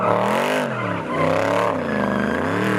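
A powerful Mercedes-AMG V8 car engine roars loudly, its pitch rising and falling as it revs hard, close by with a deep throaty tone.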